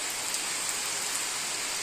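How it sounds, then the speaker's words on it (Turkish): Steady rain falls on a farm, an even broadband hiss of drops striking surfaces throughout, fairly loud and unbroken with no voices. "çiftliğimde artık bir yağmur, bereket, maşallah"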